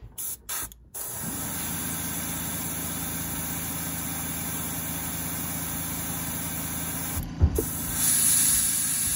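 Purple paint is sprayed from an aerosol can onto a square bill crankbait in a long continuous hiss, close and steady, after a few short opening bursts and with a brief pause near the end.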